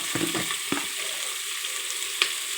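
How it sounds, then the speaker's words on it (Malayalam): Onions frying in a pan for a pressure-cooker chicken curry, a steady close sizzle with a few short stirring scrapes near the start and a brief clink later. "ഇതിലേക്ക് നമ്മൾ ഉള്ളി ഒന്ന് ജസ്റ്റ് ഒന്ന് നമുക്കിങ്ങനെ ഫ്രൈ ചെയ്തെടുക്കണം"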